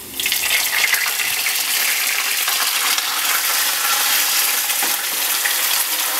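Diced tomatoes hitting a pan of sautéing garlic for pasta puttanesca, setting off a loud, dense, continuous hiss and sizzle that stays steady throughout, close up with no talking.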